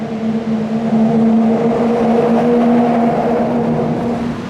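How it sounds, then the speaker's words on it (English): Road traffic drones loudly and continuously on a bridge roadway in the North Cascades, a steady engine hum with a low tonal whine and no distinct single passes, with no talking over it. "I'm looking across a bridge here on the roadway. And it gets quite noisy with the traffic."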